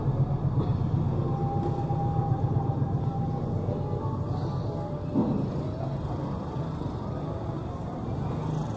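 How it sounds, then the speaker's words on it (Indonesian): A train rumbles past in the distance near Malioboro Street in Yogyakarta, a continuous low roll with faint tonal squeals beneath steady street ambience. "Wah, itu ada kereta api tuh."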